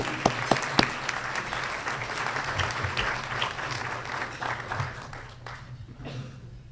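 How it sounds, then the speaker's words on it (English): A country club audience gives a round of applause, loud and full at first with a few sharp close claps, then gradually thinning and fading toward the end. "Let's give her a round of applause."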